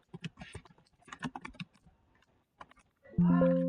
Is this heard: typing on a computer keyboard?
yes